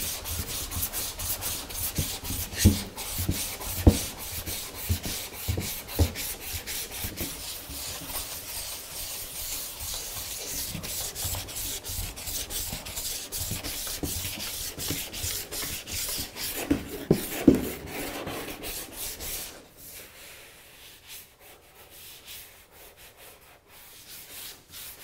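Roll sandpaper at 180 grit is rubbed by hand over a filled dent, making rhythmic scratchy back-and-forth strokes, close and fairly quiet, that stop near the end and leave faint room noise.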